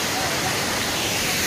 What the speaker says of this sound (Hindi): काफ़ी मस्त झरना है, काफ़ी मज़ेदार झरना है